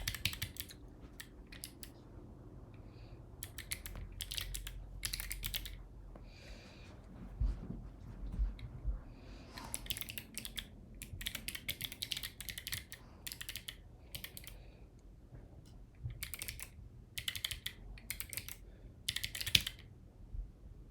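A computer keyboard clatters in rapid bursts of keystrokes separated by short pauses, close and moderately loud, with faint breathing between bursts.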